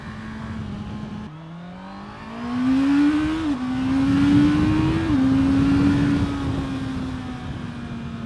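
A 2024 Honda CBR650R motorcycle engine revs hard toward its red line, a loud, steady drone that climbs in pitch in stepped surges with brief dips between them and no talking.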